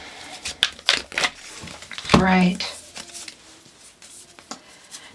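Tarot cards are shuffled by hand in quick, uneven bursts of papery riffles and soft slaps, close and fairly loud, while a voice speaks briefly in the middle.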